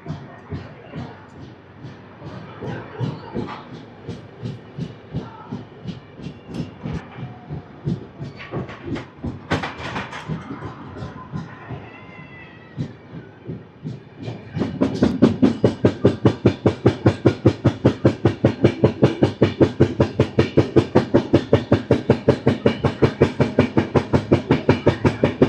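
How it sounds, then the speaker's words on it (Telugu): The Intercity Express pulls out of Mancherial station, wheels clacking slowly and steadily at first, then a louder, faster, tightly regular clickety-clack takes over as the train gathers speed. "మంచిర్యాల స్టేషన్ నుంచి అయితే మన ట్రైన్ స్టార్ట్ అయిపోయింది"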